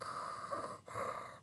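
A voice imitates the heavy, rasping breathing of a CPAP sleep machine in a Darth Vader style, two drawn-out breaths with a short pause between, close and fairly loud.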